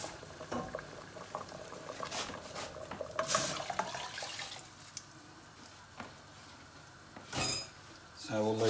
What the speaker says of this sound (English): I'm going to add a little bit more water in.